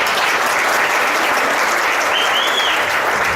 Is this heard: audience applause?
yes